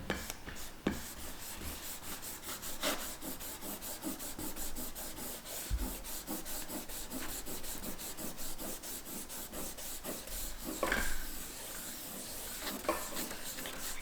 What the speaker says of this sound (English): I'm going to just lightly erase it with this eraser